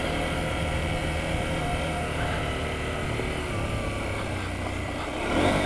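KTM 790 Adventure motorcycle spinning its rear wheel off-road in off-road mode, a steady loud engine drone with rising revs and a brief surge near the end, no talking.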